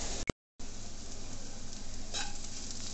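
Onion sizzles and fries steadily in a pan as the base for a Malvani pomfret curry, a close, even hiss that starts after a short clatter and gap.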